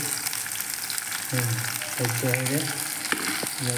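Food frying in a pan of hot oil, a steady loud crackling hiss running throughout with some faint tonal sounds over it.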